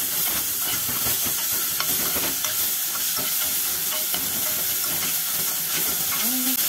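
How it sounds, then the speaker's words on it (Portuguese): Tomatoes stirred in a hot frying pan, with a steady loud sizzle and hiss throughout and soft scraping stir strokes running underneath. "O tomate e aqui eu vou colocar todos agora eu vou misturar aqui."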